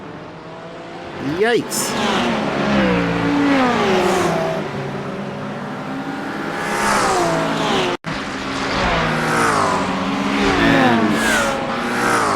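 Porsche GT3 race cars howling around Le Mans in a racing video game, with engines revving and shifting loudly and the pitch climbing and falling through gear changes. A commentator speaks briefly over the engine noise.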